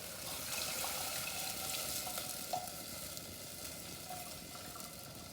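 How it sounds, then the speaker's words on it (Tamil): Tamarind water bubbles at a steady boil in a pot for South Indian pepper rasam, a continuous soft sizzling hiss with small pops, close by and fairly quiet, with no talk over it. "இப்போ புளி தண்ணி நல்லா கொதிக்குது."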